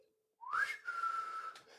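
A person whistles to imitate a whistle, producing a single short tone that slides upward and then holds steady for about a second, fairly close and clear.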